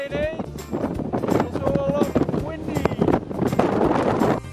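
Blustery wind on a volcanic mountain in Java, Indonesia buffets the microphone in loud, uneven gusts while voices and faint tonal calls come through intermittently.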